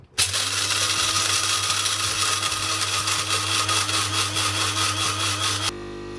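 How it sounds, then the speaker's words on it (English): Coffee beans being ground in a grinder, a loud, steady whirring grind that runs continuously for about five and a half seconds and then cuts to a lower hum. "let's grind some beans"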